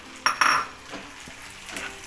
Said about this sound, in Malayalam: അത് കഴിഞ്ഞിട്ട് നമുക്ക് മുന്തിരി വറുത്തെടുക്കാം.